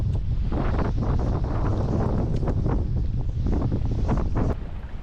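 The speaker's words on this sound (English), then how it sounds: "It's super windy." Strong wind at Big Hill Lake buffets the microphone in a constant loud roar, with gusty low rumbling throughout and no voices.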